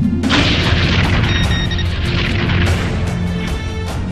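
Sci-fi spaceship disruptor weapons fire as a heavy, booming blast that rumbles on for several seconds, layered with tonal whines and shimmering high energy tones.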